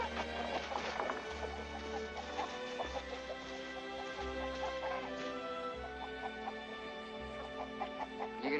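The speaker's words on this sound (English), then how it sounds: "You gonna raise chickens at your new place, Mrs. Christopher?" Chickens clucking near a farmyard chicken house, scattered soft clucks over a low steady background hum, no speech.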